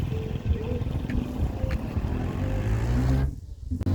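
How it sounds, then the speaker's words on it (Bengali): Big trawlers on the Padma river pass with a continuous low engine drone, steady and close, under wind noise and faint crowd chatter at a riverside park, cutting out abruptly near the end. "বড় বড় ট্রলার যাচ্ছে"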